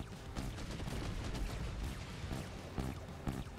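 Bursts of rapid, muffled gunfire from a video game, repeated shots with sharp cracks near the end, fairly quiet overall.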